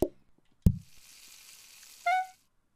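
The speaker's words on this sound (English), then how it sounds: "It is fried seaweed after all, so I think a good frying will do." Seaweed frying in the video game PlateUp!, heard as a soft hissing sizzle that runs for about two seconds after a couple of sharp clicks, ending with a short chiming tone.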